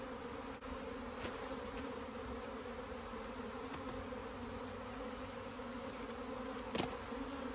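Honey bees from a laying worker colony buzz in a steady, dense drone that fills the whole stretch, with a few brief sharper knocks along the way and no talk.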